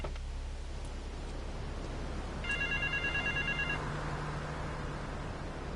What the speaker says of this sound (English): Get to the phone in West Belleville Park.